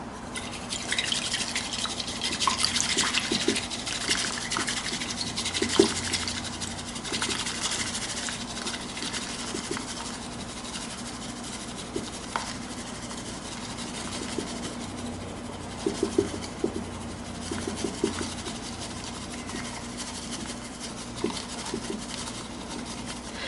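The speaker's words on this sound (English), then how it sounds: "whisk vigorously for about 30 seconds" Fast, continuous scratchy swishing of a bamboo whisk frothing matcha in a bowl, steady and close, lasting throughout with small clicks and no talking.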